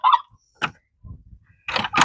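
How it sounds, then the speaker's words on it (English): Farm chickens clucking and squawking in short, close bursts separated by brief pauses, with a lower murmuring cluck in the middle. "And we got some chickens coming."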